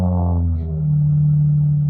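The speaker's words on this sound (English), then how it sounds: "this is a V6 300C and they've chopped the mufflers off" A Chrysler 300C V6 with its mufflers chopped off runs on a cold 28-degree morning, giving a loud, steady, close-up low exhaust drone throughout with no talking.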